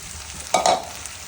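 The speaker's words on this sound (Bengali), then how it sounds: "আমি এখন যে চাল আর ডালটা মিক্স করে রেখেছিলাম সেটা দিয়ে দিচ্ছি" Rice and lentils soaked together are tipped into a pot of half-boiled vegetables, a brief soft splashing rush that lasts a fraction of a second before quiet returns.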